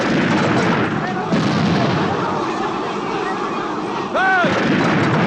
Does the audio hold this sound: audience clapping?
no